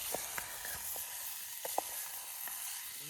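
Dried fish (sukat) hitting a curry over a firewood fire gives a soft continuous sizzle with scattered light crackles and pops, fairly quiet and without speech.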